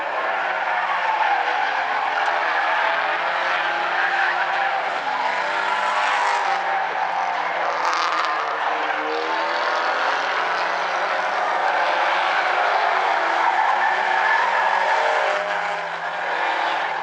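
Stinger 8 race cars roaring around the South Sound Speedway oval during a 20-lap main event, a loud continuous blend of engines and tire noise that swells as cars pass close by.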